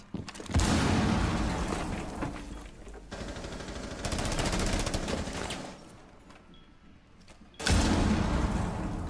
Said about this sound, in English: Stay clear of the blast!